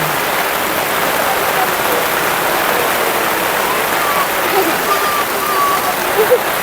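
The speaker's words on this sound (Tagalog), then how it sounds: "Inabot po tayo ng napakalakas na ulan, no?" Very heavy rain pours in a steady, loud, dense hiss throughout, with children playing and someone speaking over it.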